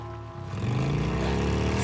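A motorcycle engine in Days Gone starts up and settles into a steady, throaty idle rumble that carries on briefly, close and fairly loud.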